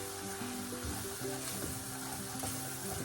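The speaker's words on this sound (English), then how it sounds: "the onion is cooking. Our curry is toasting as well." Onion and turmeric curry powder frying in a pot for a Jamaican vegetable stew, a dense, steady sizzle that stays loud throughout, with no speech.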